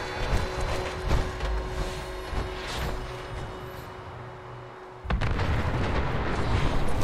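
Explosions in the video game Fallout 76: deep, heavy booms over a rumbling background, with a sharp loud blast near the end followed by sustained rumble.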